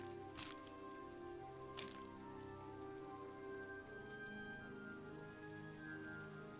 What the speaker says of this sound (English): Can it not be raining, please?